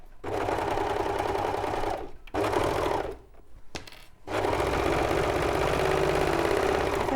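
A sewing machine stitches fabric with a steady, loud mechanical hum, halting briefly twice before running on continuously, close and alone.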